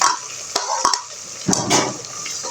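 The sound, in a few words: tomatoes stirred and frying in biryani masala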